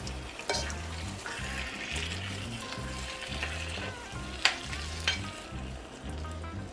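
Eggplant stewing with vegetables sizzles steadily in a pan while a utensil stirs through it in repeated strokes, with a few sharp clicks of the spoon against the pan.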